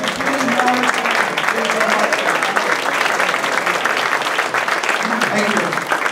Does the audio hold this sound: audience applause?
yes